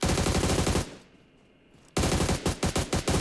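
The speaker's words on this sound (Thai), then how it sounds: "เปลืองกระสุนมาก เนี่ยดูดิรู้สึกว่ายิงไม่ค่อยนิ่งเลย" Bursts of automatic gunfire from the mobile battle-royale game PUBG Mobile, loud and rapid, cut by a quiet gap of about a second and then resuming in choppy repeated volleys.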